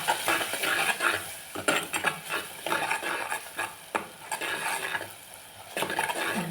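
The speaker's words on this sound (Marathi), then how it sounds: "आता ही चांगली ढवळून घेऊया" Malvani masala is stirred in a pan, with repeated close scraping strokes of a spoon over a soft sizzle, steady and alone without talk.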